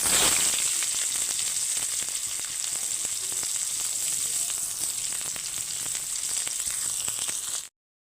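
Onions hiss and crackle loudly in hot oil tempered with mustard seeds for a silver carp curry, a steady close sizzle lasting about seven seconds before cutting off abruptly.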